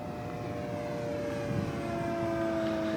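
A vintage Byron Originals T-34B Mentor RC airplane flies at half throttle, its engine giving a steady, continuous drone with a sustained tonal whine that holds level throughout, fairly close and loud with no talk.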